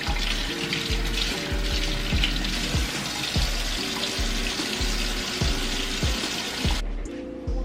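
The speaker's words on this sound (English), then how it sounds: "Rinse off any dirt, any debris, anything that could have possibly been on it" Lemon and key lime rinsed under a running kitchen tap, steady close water flow with rhythmic splashing as the fruit is turned under the stream, continuous and fairly loud, cutting off sharply near the end.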